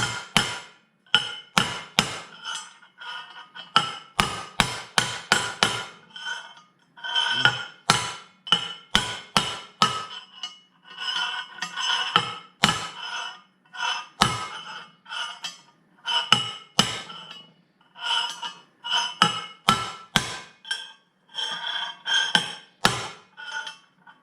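A hammer drives press-fit parts down onto a half-inch key on a Belsaw scale-model build, giving irregular runs of sharp, close metallic blows with short pauses between groups of strikes.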